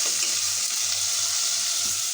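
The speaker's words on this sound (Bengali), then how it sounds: "পানি দিয়ে মশলাগুলো আমি কষাইতে থাকি।" Ginger, garlic and cumin paste fries in a pan with a splash of water, giving a loud, even, continuous sizzle with faint stirring and no voices.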